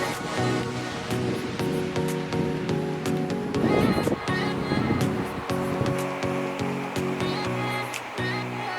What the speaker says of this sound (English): So nice to hear the ocean constantly on this hike.